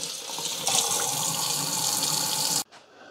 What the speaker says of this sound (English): So I'm gonna clean this out and rinse this out really good.